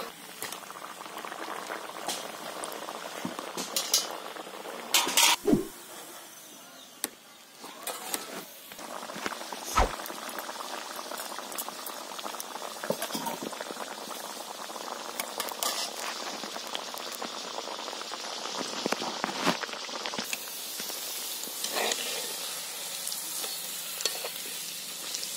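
Puffed chatu (sattu-filled) kachoris deep-fry in hot oil, a long, bubbling, rain-like sizzle that holds steady, broken by a few sharp knocks and clatters as they are turned and lifted.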